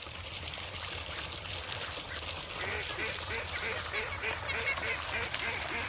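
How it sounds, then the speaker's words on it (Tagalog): Ducks quack repeatedly in a dense, busy flock outdoors, their calls layered over a steady wash of water and background noise, with people talking nearby. "Ayan ang mga pato, oh."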